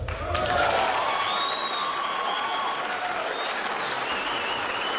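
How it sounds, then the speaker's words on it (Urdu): An audience applauds a hero at a public event, with dense, loud, sustained clapping that starts abruptly and carries on steadily throughout, mixed with faint crowd noise. "بہت ساری تالیاں ہمارے اس ہیرو"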